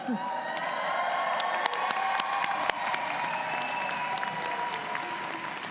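A large convocation crowd at Mount Royal University fills a hall with loud, sustained applause and cheering, with scattered sharp claps and whoops over a dense, continuous roar.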